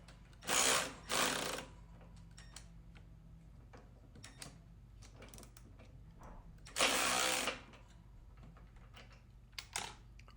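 A power tool runs a nut onto a GrassFlap mount on a Hustler Surfer Pro mower deck, sounding as short, loud whirring bursts, two close together and one later, among quieter clicks and handling noises.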